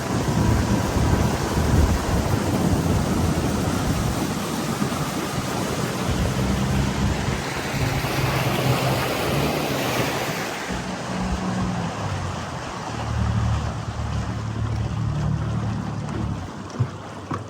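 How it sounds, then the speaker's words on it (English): Strong wind buffets the microphone in a constant low roar, with rushing noise on open water along the Big Pee Dee River near Big Bull Creek, and no voices. "I know the wind's pretty rough and it's pretty hard to hear me"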